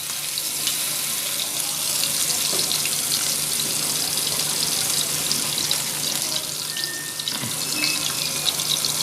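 Peshawar-style chapli kebabs sizzle in hot oil on a flat griddle pan, a steady, close, hissing crackle that carries on evenly for about nine seconds with no voices.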